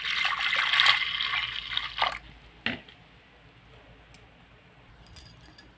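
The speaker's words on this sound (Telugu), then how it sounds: "వాటర్ అయితే పోసుకున్నాను." Water poured into a pressure cooker holding toor dal, a loud splashing pour for about two seconds that tapers off into a few small drips and light metallic clinks.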